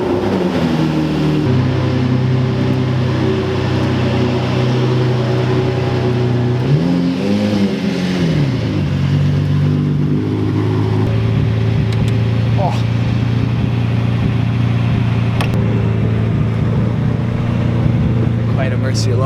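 A Lamborghini Murcielago engine idles and revs steadily in the foreground, with one rising-and-falling rev swell partway through, while people talk over the continuous engine drone.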